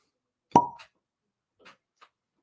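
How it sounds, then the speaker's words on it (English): A cork pulls from a bottle of Old Elk wheated bourbon with one sharp, close pop, followed by a couple of faint small clicks and taps in an otherwise quiet room. "Old Elk always has solid cork pops."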